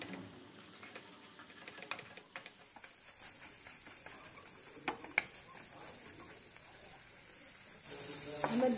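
Eggs for egg bhurji sizzle in a pan over a raised flame, with a soft steady crackle and patter, scattered brighter pops and clicks, and the frying growing louder near the end.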